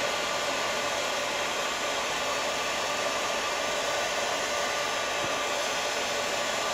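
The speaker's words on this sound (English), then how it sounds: "you'll be able to see how it starts turning shiny after the heat hits it on the embossing powder itself." A heat tool runs nonstop at close range, melting clear embossing powder until it turns shiny, a steady breathy whoosh heard alone.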